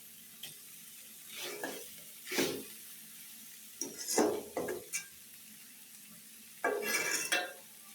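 Malabar spinach (pui shak) bhaji frying in a pan, with soft sizzling and intermittent bursts of stirring and utensil scraping against the pan, close and moderate in volume.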